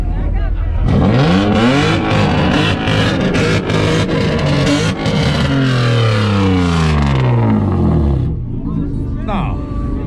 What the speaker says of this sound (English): Let's hear what you got in the little BMW.